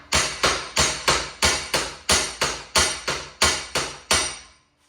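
Sharp metallic hammer blows on a custom Nissan Skyline driveshaft cap strike in a steady rhythm, about a dozen hits, each ringing briefly before the next, the pitch changing as it bottoms out; loud and close with no talking.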